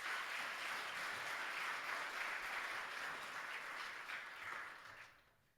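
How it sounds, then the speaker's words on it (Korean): A church congregation applauding at a completion ceremony, a dense sustained wash of many hands clapping that stays even, then gradually fades out at the end. "큰 박수로 축하해 주십시오."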